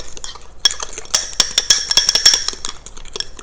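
Egg being mixed into keto bread batter in a bowl: a rapid run of light clinks and scrapes of a utensil against the bowl, close and fairly loud, with no talking.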